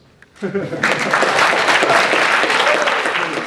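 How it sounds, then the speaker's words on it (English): Applause from a symposium audience breaks out after a brief quiet opening and stays dense and steady; a voice is faintly heard just before it starts. "And now applause."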